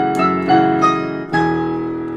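Piano chords voiced with an added octave, from a piano arrangement of the Chainsaw Man Reze piece, strike in three or four loud, close attacks that ring out between hits, with no talking.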